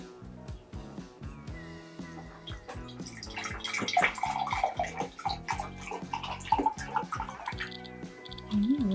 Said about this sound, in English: I'll just pour a little off so we can taste it.